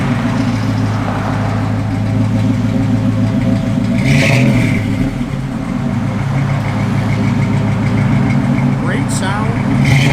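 A 1969 Pontiac Firebird convertible's engine idles loudly with a steady, throaty rumble and swells once or twice with revs, close by, while people talk over it.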